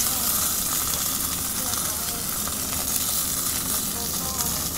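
A steady, crackling sizzle of chicken frying in hot oil in a pan, constant and close, with a faint hum underneath, at a campground.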